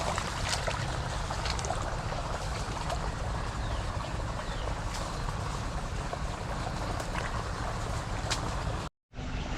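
Strong, steady rush of flowing water fills the scene continuously and loudly, broadband and unbroken, cutting out briefly near the end.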